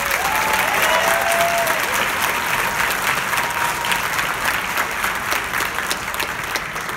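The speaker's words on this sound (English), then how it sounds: "Let's give them a round of applause again." Sustained audience applause for a college jazz band, a dense wash of many hands clapping, loud and steady, with a few faint cheers mixed in.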